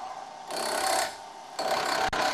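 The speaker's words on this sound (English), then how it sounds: "Start the lathe and proceed with the next cut" A wood lathe turns a spindle on a wobble chuck while a gouge cuts, producing two bursts of hissing, rasping cutting noise over a quiet motor whir, close and fairly soft, with no talking.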